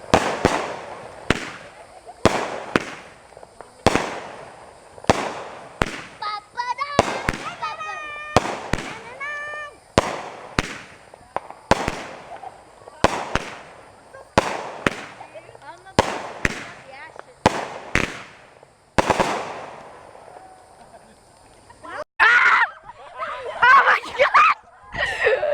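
Fireworks go off outdoors on a Florida trip, a string of sharp, loud bangs at uneven intervals with crackling between them, while people shout and react excitedly in between.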